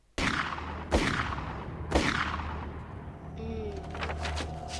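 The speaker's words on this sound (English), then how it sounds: "hears very obvious gunshots and thinks, that sounds like fun?" Three loud, sharp gunshots in a film ring out about a second apart, followed by a short tonal sound and a burst of rapid clicks.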